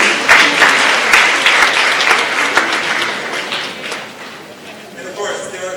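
An audience gives loud, close applause for the big bellies at a live innovation competition event, dense clapping that gradually thins and fades near the end.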